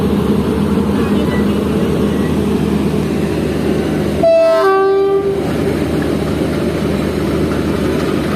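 A Jaffer Express locomotive, RGE24 number 5125, rumbles at a close, steady idle, then sounds one loud, sustained horn blast of about a second before the engine drone continues.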